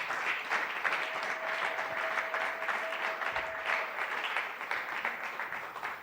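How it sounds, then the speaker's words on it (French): A church congregation applauding loudly, sustained dense clapping from a large crowd that fills the room without a break, steady throughout. "Est-ce que tu peux acclamer très fort pour la gloire de Dieu?"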